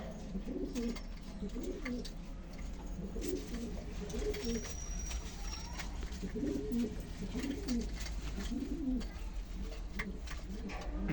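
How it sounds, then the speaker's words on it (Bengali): Cargo pigeons cooing in repeated low, throaty phrases at a steady rhythm, fairly close, over a constant background hum with occasional clicks and rustles. "এটা মালবাহী পায়রা রয়েছে"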